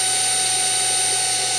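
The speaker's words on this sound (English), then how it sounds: "you're going to want to drill at a slower speed, because if you go too fast, you could break the plastic" A power drill bores into a plastic ice chest, giving a loud, steady whirring drone that runs unbroken throughout with no talking.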